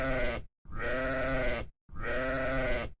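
Three loud sheep bleats sound alone in quick succession, each a long wavering cry separated by brief silences.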